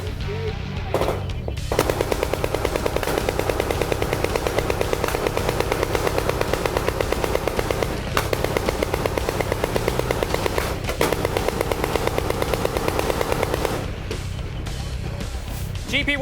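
A naval warship's machine gun fires a long, steady burst of rapid rounds for roughly twelve seconds, loud and close, with shouted commands around it and the gunfire stopping near the end.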